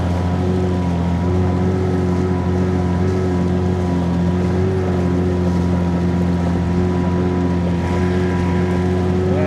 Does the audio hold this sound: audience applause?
no